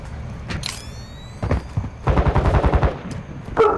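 Gunfire in Call of Duty: Modern Warfare II: a few scattered single shots and mechanical clicks, then a rapid burst of automatic fire, close and loud, ending with another sharp shot.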